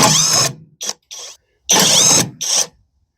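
A PROTMEX cordless 1/2-inch impact wrench working rusty bolts on an old snowblower, hammering in several short loud bursts with brief gaps, close by.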